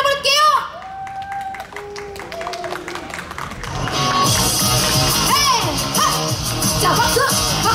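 Crowd at a street busking show claps and cheers as a singer's live K-pop cover starts, loud shouts and applause building over music and amplified voices.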